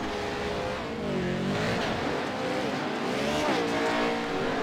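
Race cars in a sim racing game, Pro 4 series at Wild West, engines droning and revving with rising and falling pitch as the field runs, a continuous close-up roar with no talk.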